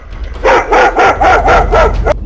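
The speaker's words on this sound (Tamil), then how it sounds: "வளர்ப்பு நாய்" A pet dog at night barks in a rapid run of about seven loud, sharp barks, close and insistent, with a low rumble underneath and no voices.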